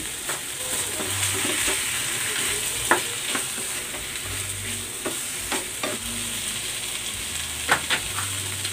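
Chicken sizzles and fries in a pan with curry powder, a steady close hiss with periodic scrapes and clicks of stirring throughout, no voices.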